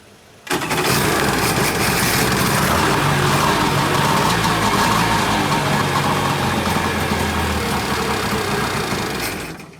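A Polaris 780 two-stroke engine running on starter fluid catches after half a second of quiet and then roars at a loud, steady, raspy idle that holds until it fades slightly at the end.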